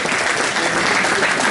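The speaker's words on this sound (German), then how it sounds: "das ist dein Applaus" Crowd applause for the third-place finisher, a 74-year-old runner, at the finish-line awards of the 59th Herford New Year's Eve cross-country race. The dense, steady clapping holds at a loud, even level throughout.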